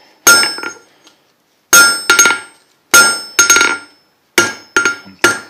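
Hot metal is flattened with a hammer, drawing out the end of a small piece. Sharp, ringing blows land close and loud in quick clusters of two or three, with short silent pauses between the groups.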